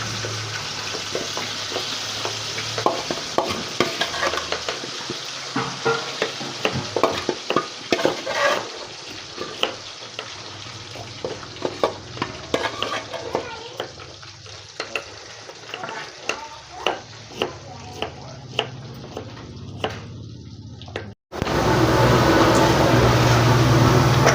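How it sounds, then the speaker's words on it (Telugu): Chicken pieces frying in oil for chicken pickle, a steady bubbling sizzle with frequent sharp spoon scrapes and clinks against the pan, ending in a sudden cut to a louder, denser hiss. "మిగతా చికెన్ కూడా ఫ్రై చేసుకోవాలి"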